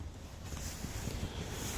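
Strong wind buffets the microphone while cycling from the UK toward Africa near the Spanish border, a loud, steady rushing roar with no pauses.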